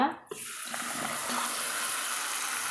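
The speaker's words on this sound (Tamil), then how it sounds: "தேவையான அளவு தண்ணி சேர்த்தி நம்ம ஒரு அஞ்சு நிமிஷம் வந்து நல்லா கொதிக்கொள்ளலாங்க" Steady rushing water pours into a cooking pot of eggplant curry after a brief quiet start, a continuous close splashing hiss with no talking.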